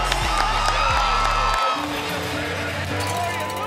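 An arena crowd at the Golden 1 Center roars after a Sacramento Kings home win, 120-105, a dense wash of cheering under a commentator's voice throughout.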